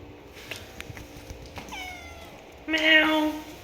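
A cat meows indoors in a short, clear, rising cry near the end, preceded by quieter rustling and faint vocal sounds.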